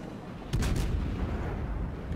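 A naval gun salvo fires in World of Warships, aimed at an enemy ship. One sharp, booming report hits suddenly, then rolls into a rumbling decay over low background noise.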